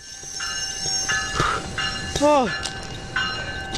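A train rolls toward and brakes to a stop on tracks in Perth Amboy, with high metallic wheel squeals rising and falling over steady rail rumble. Someone briefly calls out over the noise.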